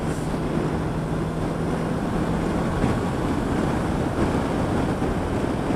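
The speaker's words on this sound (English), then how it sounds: "you can tuck behind the screen and get out of the wind noise" Steady, loud rushing wind noise from riding a Suzuki V-Strom 650 motorcycle, a continuous buffeting roar with no talk.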